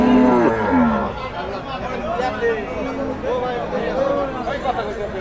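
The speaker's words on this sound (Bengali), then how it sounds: "সব বড় গরু দেখেন" Cattle and young calves low and bellow at a busy village livestock market in Bangladesh, the moos rising close by over a steady babble of buyers and sellers talking throughout.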